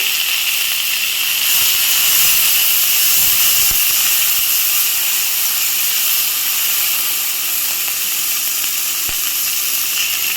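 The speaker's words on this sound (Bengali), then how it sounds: "ওই তেলে আমি দিয়ে দেবো এখন পেঁয়াজ কুচি পেঁয়াজ কুচি আর কাঁচা লঙ্কা কুচি দিয়ে দিয়েছি লাল করে ভেজে নেবো" Chopped onion and green chilli fry in hot oil, giving a loud, steady hiss that holds unbroken for about ten seconds with no talking.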